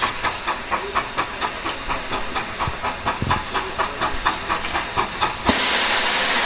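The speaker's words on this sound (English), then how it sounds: "another engine that's in the station waiting with its train blows off steam" A train clatters past with rhythmic clickety-clack at Blue Anchor on the West Somerset Railway, then a loud, sudden roar of steam blowing off from a steam locomotive waiting in the station drowns everything at the end.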